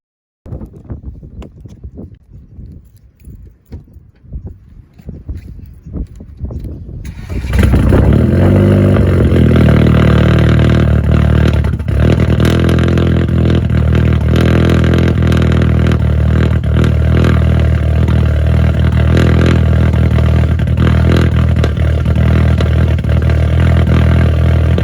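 A Mk5 GTI with a Stage 3 big turbo, running rough, cranks and fires up in a parking lot, then holds a loud, steady, close engine drone with slight wavering for the rest of the time, after a quieter clattery lead-in.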